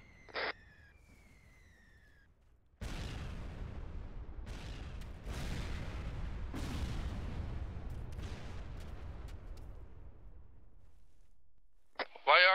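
Mortar and artillery fire in Arma 3 while defending a barn: heavy booming impacts and launches rolling one after another, each followed by a long rumbling tail, with a faint high tone before and sharp noises at the end.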